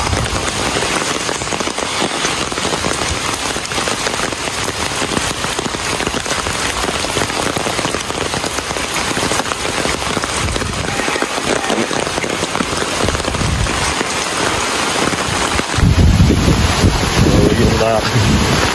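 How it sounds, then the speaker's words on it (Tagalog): Heavy typhoon rain pours steadily while strong wind roars across the microphone, with a louder gust near the end. "Malakas pa rin yung hangin."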